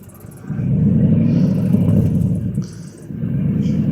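A 2000 Ford F-150 with a 5.4 V8 and Smithy mufflers revs up from idle, holding a deep, loud, steady exhaust rumble that dips briefly before climbing again, close by with no talk.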